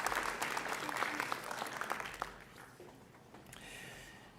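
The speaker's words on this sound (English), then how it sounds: "Yes, you all get a round of applause" Graduates at a university fall commencement ceremony clap for their families, a steady indoor round of applause that tapers off toward the end.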